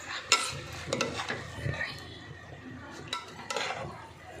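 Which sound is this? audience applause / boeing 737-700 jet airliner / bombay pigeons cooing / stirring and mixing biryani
stirring and mixing biryani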